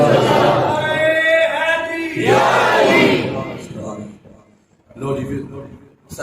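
Crowd shouting a takbir slogan in unison at a Punjabi-language religious gathering on the virtues of Darood Sharif, a loud massed chant in two bursts after a preacher's call.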